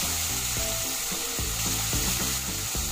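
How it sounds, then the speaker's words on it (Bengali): Bhetki fish pieces rubbed with salt and turmeric fry in hot mustard oil, giving a continuous close sizzle beneath steady background music. "তেল একবার ভালোভাবে গরম হয়ে গেলে নুন হলুদ মাখানো মাছগুলো এর মধ্যে দিয়ে দিচ্ছি।"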